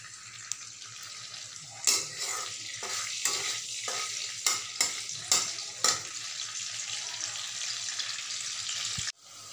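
Green chilies frying in hot oil in a pan, a continuous bright sizzle broken by several sharp scraping stirs of a spoon, close and fairly loud throughout.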